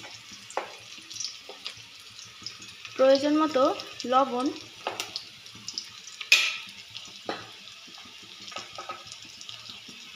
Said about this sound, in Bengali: পেঁয়াজ এবং কাঁচামরিচটা ভাজা হয়ে আসলে এখন দিয়ে দেব